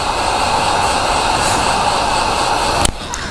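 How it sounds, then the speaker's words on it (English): A heat gun or hairdryer blows hot air onto chrome-delete wrap film on the front lower lip of a Toyota Grand Highlander Hybrid MAX, a steady close whooshing roar with a brief clack near the end. "if you have a heat device like a heat gun or a hairdryer, you can also use it"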